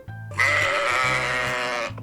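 A person imitates a goat's bleat with their voice, one long wavering nasal cry lasting over a second, loud and close, with a faint low hum underneath.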